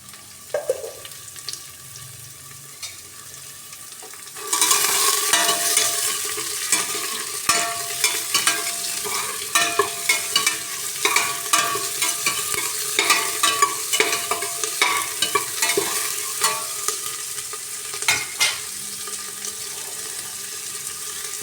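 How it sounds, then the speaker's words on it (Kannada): Chopped onion and green chilli hit a hot pan and fry with a sudden loud sizzle, followed by steady crackling and repeated stirring clicks throughout, with no talking. "ಹಚ್ಕೊಂಡಿರೋ ಈರುಳ್ಳಿ ಮೆಣಸಿನ್ಕಾಯಿ ಹಾಕ್ತಾಯಿದ್ದೀನಿ"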